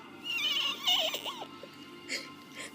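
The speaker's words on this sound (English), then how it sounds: "Horse." A horse gives a close, wavering whinny with a quivering, rising and falling tone, followed by a brief softer snort.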